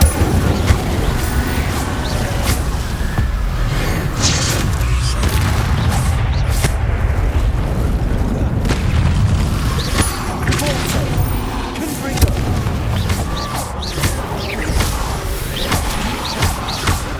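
Spell blasts in the Hogwarts Legacy video game, a dense run of booms, thumps and crashes over a continuous rumbling combat bed, loud and close, with a voice speaking intermittently throughout.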